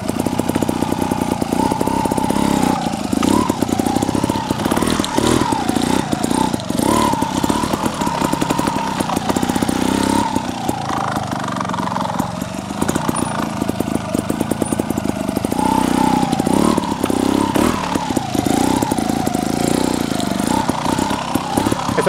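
A TRRS One RR trial motorcycle runs in second gear at low revs, its steady engine tone loud and close for the whole span, with slight rises and dips as the throttle is worked through tight turns.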